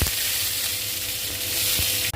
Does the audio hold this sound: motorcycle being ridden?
no